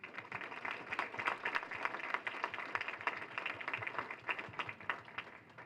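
Quiet, scattered applause at a farmers breakfast for state legislators, a room of clapping that sounds somewhat distant and uneven, continuing steadily without speech.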